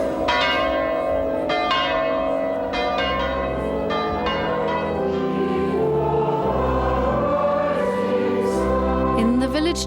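Church bells ring for a wedding at a VE Day 1995 celebration, a steady peal of overlapping, resonant strokes in uneven rhythm, loud and close, with no one speaking over them.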